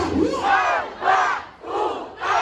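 A concert crowd at a live show in Vancouver, Canada, by Filipino hip-hop acts shouts together in loud, rhythmic bursts, about four massed yells in quick succession.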